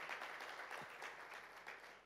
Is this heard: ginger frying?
no